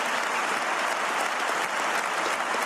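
A debate audience applauds continuously in a dense, even wash of many clapping hands that stays steady for the whole stretch, with no voices standing out.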